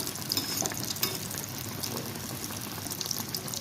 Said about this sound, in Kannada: ಇಷ್ಟು ಗೋಲ್ಡನ್ ಬ್ರೌನ್ ಬರೋವರೆಗೂ ನಾವು ಫ್ರೈ ಮಾಡ್ಕೋಬೇಕು